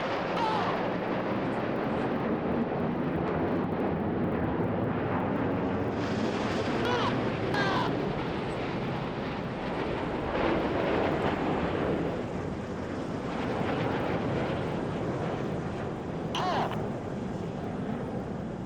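Red Arrows jets roar overhead at an airshow while flying rollback manoeuvres, a sustained, loud, wind-buffeted drone with rising and falling engine tones and faint crowd or commentary underneath.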